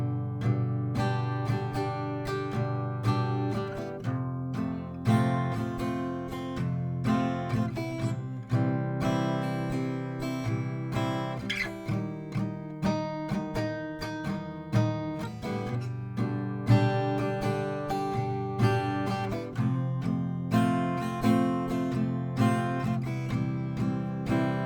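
Acoustic guitar strummed in a steady repeating pattern through changing chords of a song, with dense rhythmic down-and-up strokes at an even moderate level and no talking.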